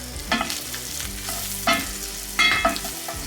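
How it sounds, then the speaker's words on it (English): A flour roux being stirred as it sizzles in a hot pan, with steady close frying and three sharper scraping stir strokes spread through, no talking. "I'm listening to my pan, it's not loud enough."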